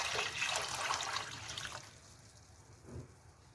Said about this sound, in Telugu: ఇందులో కొలిచి పెట్టుకున్న నీళ్లు పోసేస్తున్నాను.